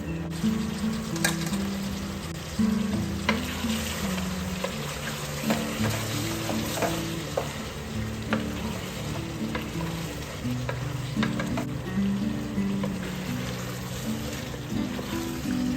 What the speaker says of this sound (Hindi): चावल शामिल कर दिए हमने, इसमें पानी बॉईल हो गया था हमारा जो है ना फ्राई हो रहा है।